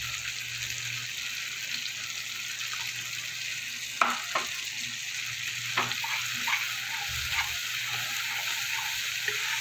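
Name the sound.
frying spices with turmeric and Kashmiri chilli in oil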